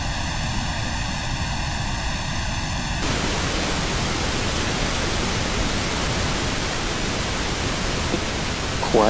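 Audio processing in a studio with a delay effect switched on, a harsh buzzy tone with evenly spaced harmonics abruptly giving way to a dense, washy broadband hiss that stays loud and constant.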